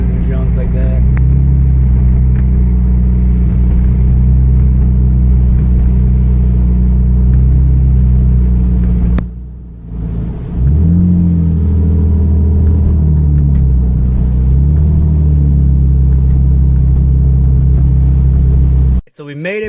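A camo-wrapped Nissan 350z drives on snowy country roads on new tires. Its deep, steady engine rumble drones from inside the car, dips briefly halfway through, then swells back with shifting revs.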